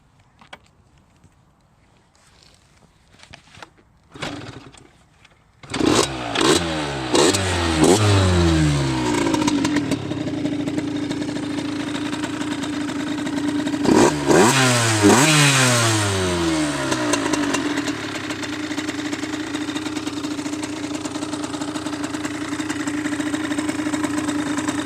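A 2016 Derbi Senda X-Treme DRD SM 50 motorcycle sputters through a few tries before its small engine catches. It revs in rising and falling bursts, then settles into a loud, steady, buzzing idle close by.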